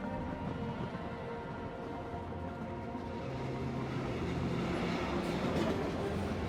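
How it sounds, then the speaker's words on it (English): A train in the PUBG game rumbles past with a steady low mechanical drone that swells slightly louder toward the end, alone without talk. "what happens if the train hits an airdrop?"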